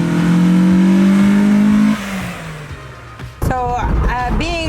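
A 1998 Acura Integra Type R with the B18 C5 engine revs up loud and high, the rising note holding for about two seconds before it drops away, and speech follows after.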